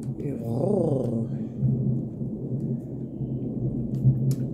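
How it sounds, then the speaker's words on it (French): Low, rolling thunder from a spring thunderstorm rumbles steadily underneath, with a voice speaking over it near the start. "Waouh, ça gronde bien."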